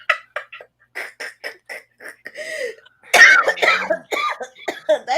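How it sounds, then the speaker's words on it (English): A person coughs and clears their throat in a rapid string of short bursts, close and fairly loud, with a few louder hacking coughs near the end. "That just made me cough."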